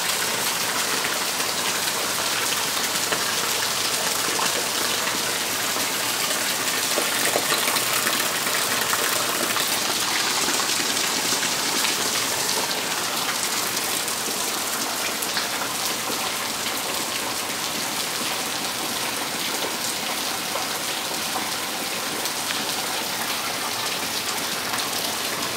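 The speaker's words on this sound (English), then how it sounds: "So I just wanted to show you guys the rain." Heavy rain from a hurricane passing over Oahu pours down in a dense, steady roar, loud and close, with a faint low rumble beneath and no one talking.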